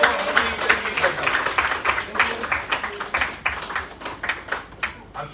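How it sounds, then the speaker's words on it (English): Audience applause at a Mumbai book launch event at BSE, a dense, steady patter of many hands clapping close by for several seconds, with faint voices mixed underneath. "Guys, please keep clapping."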